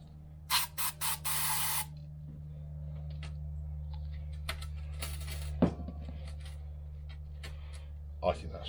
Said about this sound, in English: Let's get some of me lube.